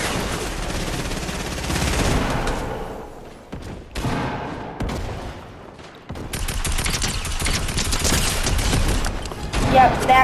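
Fortnite gunfire in a blue vs red rumble match, with repeated rapid bursts of shots, loud and close, broken by short pauses and heavy impacts, while a player talks over the action.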